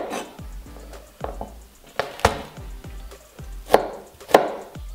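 A knife chops crushed garlic cloves on a cutting board in irregular, sharp thuds, several quick cuts with a few louder strikes, close and clear.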